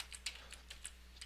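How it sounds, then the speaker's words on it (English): Quick keystrokes on a computer keyboard, about eight light clicks in a brief irregular burst, quiet and close, no talking. "I'm just going to go ahead and type in"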